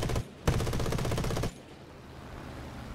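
Aircraft machine guns fire in the War Thunder flight combat game as two loud, dense bursts of rapid automatic fire, the second lasting about a second before cutting off to quieter engine drone.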